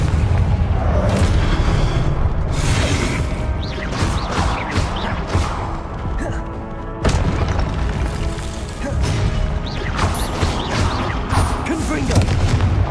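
Repeated Confringo fire-spell blasts from the Hogwarts Legacy video game, a dense run of booming impacts and crashes over continuous battle noise, loud and close, with a short lull midway before the blasts resume.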